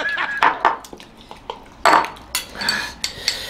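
A dish being scraped after eating a Jolo chip, with a series of close metallic clinks and short scraping strokes in an uneven rhythm.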